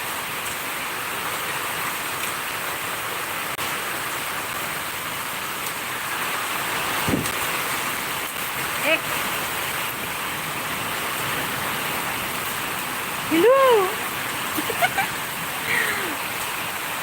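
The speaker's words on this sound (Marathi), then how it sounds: "खूप पाऊस आहे बरं का इकडं खूप चक्रीवादळ खूप मोठा झाला" Heavy rain from a cyclone falls in a steady, broad hiss, with a person briefly speaking and laughing over the downpour.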